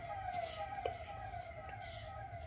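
A faint, distant wailing siren holds a steady tone over low background rumble, with no talking.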